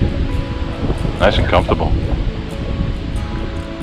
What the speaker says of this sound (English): It's a windy day here at the Lawrence House.